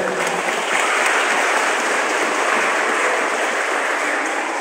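An audience at an Islamic school's year-end Quran completion gathering applauds in a steady, even wash of clapping that holds for several seconds without voices on top.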